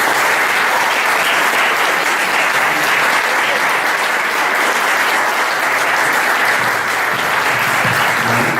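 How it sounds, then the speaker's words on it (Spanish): Sustained applause from a lecture audience at the close of an inaugural talk on Borges' poetry, loud and steady throughout with dense clapping and no speech. "Yo creo que podemos darle un fuerte aplauso de finalización."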